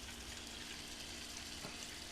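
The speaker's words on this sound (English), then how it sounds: "water flowing through okay" Water running through a freshly filled PC water-cooling loop with a push-pull radiator and hydro copper block, a faint, even, continuous hiss with no voices.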